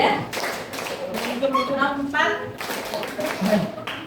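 A class of students performs the Tepuk 3 4 rhythmic clap pattern, sharp group claps sounding in short bursts close by, with talking voices over and between them.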